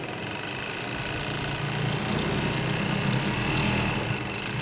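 Sewing machines running in a prison garment factory workroom, a steady, dense mechanical whir and hum that fills the room evenly without a break and with no voices.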